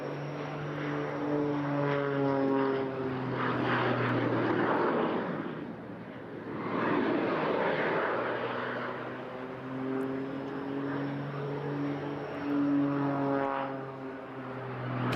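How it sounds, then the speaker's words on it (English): A propeller aerobatic aircraft at a seaside airshow in Eastbourne drones overhead with a steady harmonic engine whine and an added jet-like rush, swelling and fading as it passes and climbs, fairly distant and alone. "Sounds very strange, doesn't it, having a bit of jet noise as well there."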